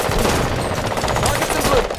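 Rapid video game gunfire in a sci-fi shooter battle, loud dense bursts of automatic fire filling the whole stretch with steady crackling.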